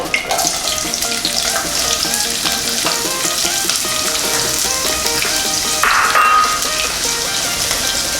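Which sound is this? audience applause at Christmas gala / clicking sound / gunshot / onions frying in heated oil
onions frying in heated oil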